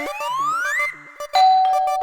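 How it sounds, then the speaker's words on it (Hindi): A doorbell chimes with rising melodic tones, followed after a brief pause by a second loud ding-dong ring, in an indoor home setting from a Hindi sitcom. "घंटी बाज ना?"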